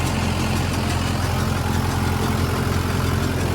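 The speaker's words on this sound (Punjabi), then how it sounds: "ਟਰੈਕਟਰ ਚੱਲ ਰਿਹਾ ਪੂਰੇ ਆਰਾਮ ਨਾਲ" A tractor pulling a Shaktiman rotavator runs with a steady, loud, low droning engine and a dense mechanical churn throughout, close by and without speech.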